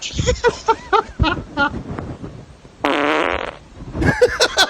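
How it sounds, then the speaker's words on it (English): A loud, close fart sound effect: a string of short sputtering bursts followed by one sustained buzzing blat, then a few more quick pops. "Doug, I'm actually going to name a fart after you"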